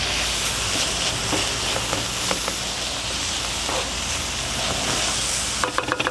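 Onion, pepper and garlic frying in a pan for paella, a steady dense sizzle with a few faint clicks and scrapes, ending in a brief burst of clatter, with no voice over it.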